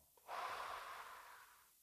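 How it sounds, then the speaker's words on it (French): A single deep breath drawn in during meditation, a soft airy inhale swelling and then slowly fading, close and quiet with no talk. "Une respiration."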